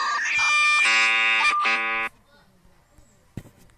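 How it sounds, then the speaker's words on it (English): South Korean emergency alert system alarm blaring as a loud, harsh multi-tone buzzing blast for about two seconds, then cutting off to near silence with a faint click. "Let's start with the South Korean EAS alarm."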